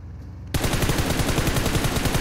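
Sustained automatic gunfire in the PUBG Mobile battle royale game starts abruptly after a quiet half-second and stays loud and dense to the end, with rapid overlapping shots and no talk.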